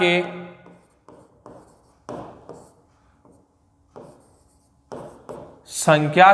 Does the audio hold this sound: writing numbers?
yes